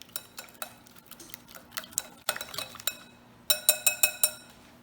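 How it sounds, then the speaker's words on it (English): A whisk clinks against a glass bowl while cinnamon, vanilla extract and kosher salt are mixed, giving a run of light, close metallic taps that build into a quick, bright rhythmic rattle near the end. "go ahead and just give that a whisk up here together"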